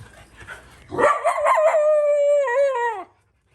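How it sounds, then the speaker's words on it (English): A small street dog in Sri Lanka lets out a single loud, drawn-out howl lasting about two seconds, wavering slightly before it cuts off, with quiet background noise before it starts. "I'm gonna get attacked by a small street dog soon."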